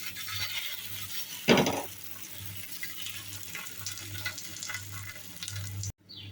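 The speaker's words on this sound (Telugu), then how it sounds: "పెన్నం బాగా వేడైన తర్వాత కొద్దిగా ఆయిల్ వేసుకొని ముందుగా మనం చేసుకున్న దాన్ని దీని మీద వేసుకోవాలి." Batter sizzles in a little oil on a hot pan, a steady low frying hiss with a sharp burst as it is poured in, then cuts off abruptly near the end.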